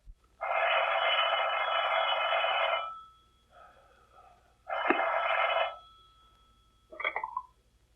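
An old-fashioned telephone bell rings in two long bursts with a pause between, followed by a shorter rattling ring, alone with no voices.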